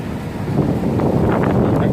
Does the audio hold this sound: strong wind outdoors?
yes